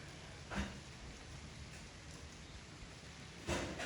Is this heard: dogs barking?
no